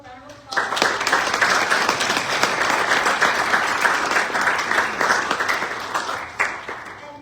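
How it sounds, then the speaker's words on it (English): At a student entrepreneurship pitch competition, the audience breaks into a sustained round of clapping after a quiet start, holding loud and even before easing slightly at the end. "let's give it one more round of applause"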